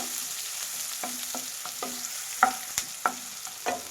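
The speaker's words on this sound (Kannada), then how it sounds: "ಉದ್ದುದ್ದು ಕಟ್ ಮಾಡಿರೋಂಥ ಈರುಳ್ಳಿ ಹಾಕಿದ್ದೀನಿ ಇದು ಅಷ್ಟೇ ಫ್ರೈ ಮಾಡಿ" Long-sliced onions frying in a pan give a soft, steady sizzle with a string of spatula scrapes and taps, close by and moderately quiet.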